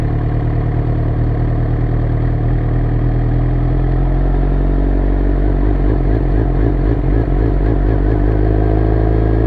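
A sports bike motorcycle engine idles and then rolls off in first gear, a loud, close, steady mid-range engine drone with a slight rhythmic pulsing as it pulls away, with no voices over it.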